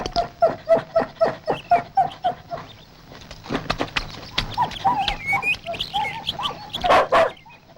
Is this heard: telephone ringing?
no